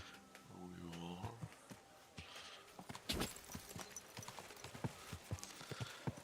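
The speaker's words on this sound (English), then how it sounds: "Someone's been pampering this horse" Horse hooves clip-clop on hard ground in the Kingdom Come Deliverance 2 video game, with a neigh at the start and a steady walking rhythm. Talk and scattered clatter sit over the hoofbeats.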